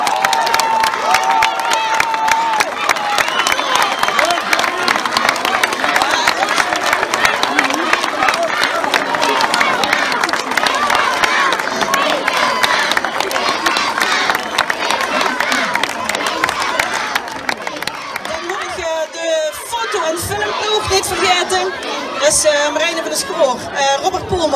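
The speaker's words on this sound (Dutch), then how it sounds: "die verdienen misschien wel het allerhelste applaus van mij" Sustained applause and crowd noise from an audience honouring the leaders at a children's holiday-week camp closing ceremony, dense clapping with cheering running steadily for about eighteen seconds before thinning into scattered voices.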